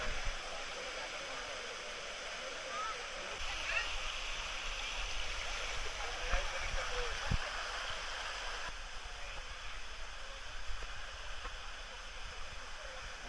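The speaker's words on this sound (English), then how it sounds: "The hot water goes here and it builds a river in here." Hot spring water runs as a stream through a forest in Krabi, Thailand: a steady, close rush and gurgle of flowing water, continuous and fairly loud, with occasional faint splashes.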